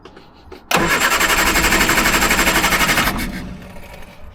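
A Triumph Herald with Stromberg carburettor cranks and catches on choke, the engine firing abruptly into a loud, rapid, pulsing idle that runs for a few seconds before settling lower, close by with no talk.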